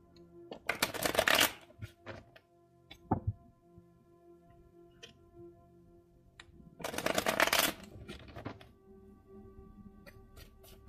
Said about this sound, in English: Spirit wants me to get another Lightseers card on that one, just as clarification